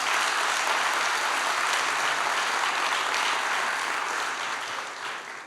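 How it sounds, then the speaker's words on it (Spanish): A church congregation applauds a sermon in a broad, sustained wash of clapping that holds steady for several seconds and then begins to fade. "A poner un aplauso al Señor por eso."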